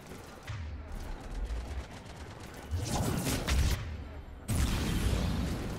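Bursts of rapid gunfire in the video game Mass Effect 3 (Citadel DLC) crackle in uneven volleys, loud and close, with heavy booming impacts and a steady low rumble between them.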